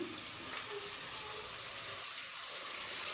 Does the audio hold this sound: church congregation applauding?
no